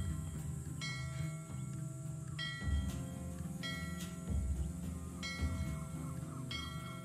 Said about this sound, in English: I got a whole bunch of bells going.